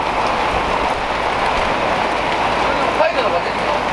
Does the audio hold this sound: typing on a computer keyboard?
no